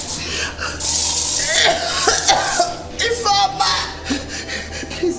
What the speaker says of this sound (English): Spray it into her face.